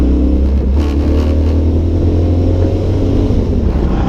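A Ford Mustang accelerates on the Paul Ricard circuit with a loud, heavy engine roar heard from close by, a deep rumbling drone that holds steady and strong throughout without a break.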